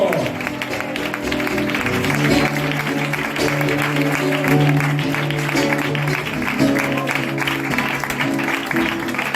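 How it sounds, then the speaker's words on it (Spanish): A church congregation in Benimamet claps along during a worship service, steady applause running the whole stretch under sustained music, with no pauses. "Aplaude al Señor que es bueno."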